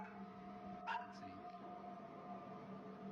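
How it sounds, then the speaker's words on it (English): A dog barks at night, one or two short barks at a moderate distance, breaking a quiet indoor hum before the room goes still again. "My dog just started barking for no fucking reason."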